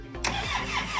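A tractor engine that had sat unused for a while runs at high idle, a steady, loud mechanical drone with a sharp rise in roar near the start and a constant high whine above it.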